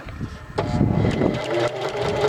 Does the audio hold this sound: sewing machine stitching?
yes